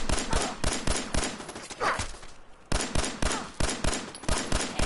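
Pistol gunfire in the video game Fallout 4 comes as rapid loud cracking shots in quick bursts, a brief pause mid-sequence, then another fast volley, near and sharp.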